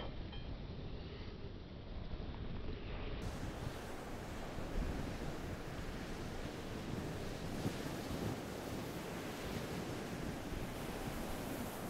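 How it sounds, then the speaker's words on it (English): Strong wind blows across a sandy beach during off-road sand winching, a loud, steady roar of gusts buffeting the microphone alongside surf-like rushing noise, continuous throughout with no talking. "this wind is ridiculous"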